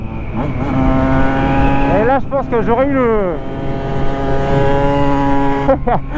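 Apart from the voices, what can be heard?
two-stroke motorcycle engine revving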